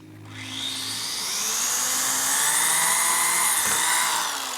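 A power drill bores through a heat-treated steel plate in a motorcycle garage, its shrill whine rising and holding steady for several seconds before winding down. No one speaks.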